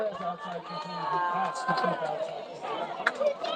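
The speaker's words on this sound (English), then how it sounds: "Walnut crowd comes to life" Walnut Hills crowd at an Ohio high school football game against Western Hills, a steady roar of many cheering and shouting voices filling the stands, loud and sustained for a few seconds.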